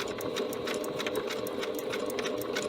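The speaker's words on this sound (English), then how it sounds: "I am going to sew the entire length of this bias tape or the tie" A sewing machine stitches along bias tape for a tie face mask, running at a fast, steady rhythm of rapid clicking stitches, loud and close, with no talk.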